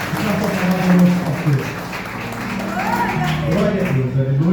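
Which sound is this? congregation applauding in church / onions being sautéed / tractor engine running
congregation applauding in church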